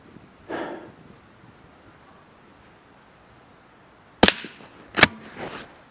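Two sharp, loud Blaser R8 rifle shots crack out outdoors about a second apart, each a sudden broadband blast with a brief decaying tail, following a faint earlier breathy rustle.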